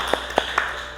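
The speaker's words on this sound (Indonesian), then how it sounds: "beri tepuk tangan untuk Sena." Three sharp, separate claps ring out in a classroom as a teacher prompts students to applaud Sena, spaced evenly over about a second against a quiet room.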